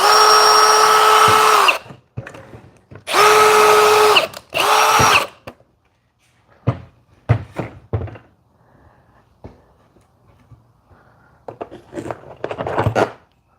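A power drill drives screws into a garage ceiling to mount bike hangers, three loud sustained whirring bursts up front, then quieter clunks, taps and handling noises with short buzzes near the end.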